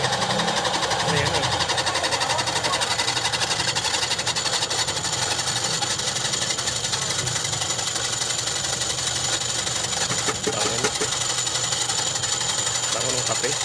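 A coffee grinding machine runs steadily at a stall in a public market in Lemery, giving a continuous loud mechanical whir and rattle throughout, with busy market noise around it.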